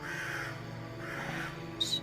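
Played as a sound effect during a tabletop role-playing session, a white crow gives repeated hoarse caws over a low drone, fairly close and steady, with a brief sharp high chirp near the end.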